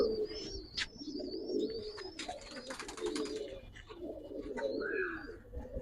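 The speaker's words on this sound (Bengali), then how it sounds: "সুন্দর কবুতর জোড়া দেখেন" Giribaz and coloured pigeons at a pigeon farm coo softly and repeatedly, with a few thin chirps, quiet and fairly close.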